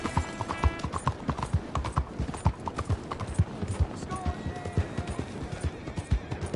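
Steady clip-clop of horse hooves at a walking rhythm in Red Dead Redemption 2, close and even, with a faint whinny partway through.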